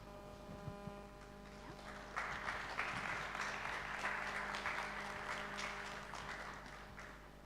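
A conference plenary audience breaks into steady applause as speakers walk to the stage, a soft, roomy wash of many hands that starts after a quiet moment and slowly fades.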